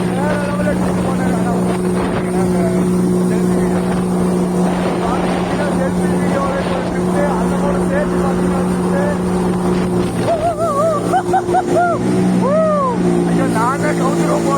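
A jet ski drifts on water in Tiruppur, its engine droning loud and steady under wind noise, with excited voices talking over it toward the end.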